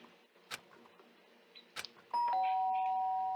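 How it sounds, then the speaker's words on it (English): A doorbell chime from the video game Danganronpa rings clearly as a sustained two-tone ding after a few soft clicks and quiet game sounds, fading slowly afterward with no speech. "The sharp sound of the doorbell pierced my sleepy haze and pulled me back to the real world."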